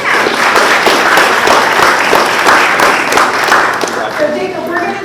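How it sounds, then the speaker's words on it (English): A room full of people at a school board of education meeting claps for an eighth grader, dense and loud applause holding steady throughout before easing slightly toward the end, with faint voices underneath. "You can give him a round of applause."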